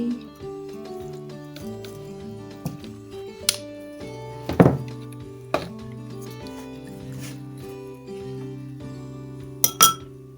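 A spoon stirs cucumber, green apple, lemon, ginger and coriander leaves in water inside a glass jar, giving scattered light clinks and taps against the glass, with a few louder knocks near the middle and end.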